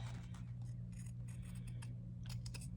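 Scissors cut through fabric for an 18-inch doll dress, a run of faint, close snips and crisp shearing strokes over a low steady hum.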